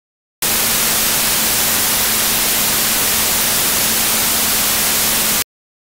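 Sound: dithered white noise with buried sine tone

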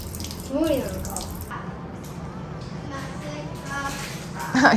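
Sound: washing hands and face under a running tap

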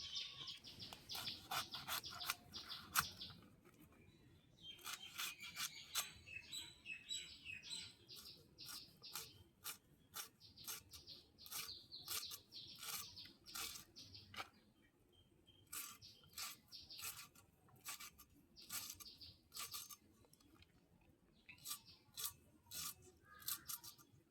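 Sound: knife cutting cabbage

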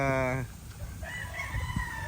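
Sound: tethered gamecock stags clucking and crowing at a farm

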